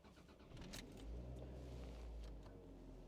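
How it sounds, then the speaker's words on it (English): A car engine cranks and catches, then settles into a low, steady idle close by, with a few faint clicks beforehand, on a trip out of woodland from Mt Dandenong toward Boronia. "I'm gonna need to turn on lights, turn on the engine."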